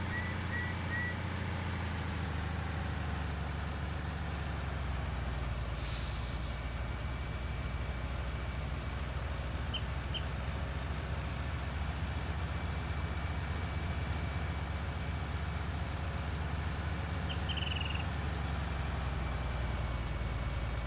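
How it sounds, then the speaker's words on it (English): A vehicle engine in Farming Simulator 19 drones steadily and loudly for the whole stretch, a constant low rumble with no pauses and no talking over it. "Listen to that engine roar."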